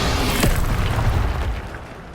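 A Hogwarts Legacy Incendio fire spell bursts with a sharp whoosh and a rumbling boom, followed by a sustained roaring blaze that slowly fades, heard alone and close.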